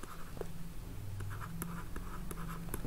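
Pen writing on paper during a maths lesson, soft scratchy strokes and small taps in short irregular bursts, quiet and close, with no talk over it.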